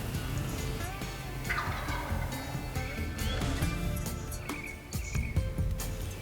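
Wild turkey gobbling repeatedly in spring woods, bursts rising over a steady chorus of crickets and insects, fairly close and loud.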